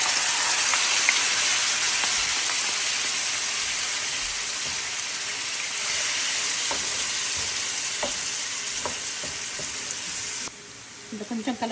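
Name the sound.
frying gravy with cumin for perugu kadi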